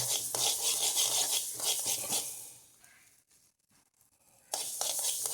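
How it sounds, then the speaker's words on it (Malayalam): Mustard seeds and fenugreek roast and splutter in a pan, a steady close sizzle with crackles that fades to near quiet and then returns loudly. "നന്നായിട്ട് പൊട്ടി വരട്ടെ"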